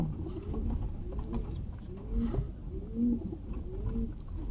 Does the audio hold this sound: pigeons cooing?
yes